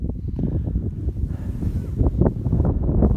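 Strong gusts of wind buffet the microphone in a continuous low rumble, rising and falling without any other clear sounds.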